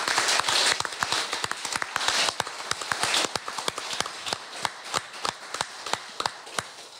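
Audience at a live podcast recording giving a rhythmic clap, sharp hand claps in unison at a steady pace, starting dense and loose, then settling into evenly spaced beats, moderately close.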